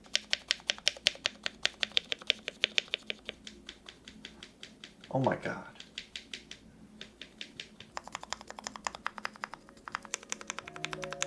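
Fingers type on a $450 luxury custom mechanical keyboard, crisp close rhythmic clacks in quick runs, broken midway by a short excited exclamation before the typing resumes faster.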